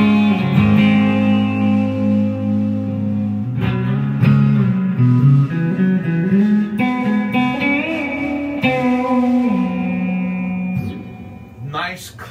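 An Orange Super Crush 100 guitar amp plays a clean tone with heavy reverb. Sustained chords and single notes ring out loud and steady, with lingering tails between phrases and no talking.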